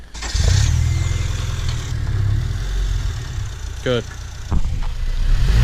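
A 2008 Honda Civic Si running with over 220 horsepower idles close by while being backed up, a steady low engine hum under brief talk and a few clanks and knocks.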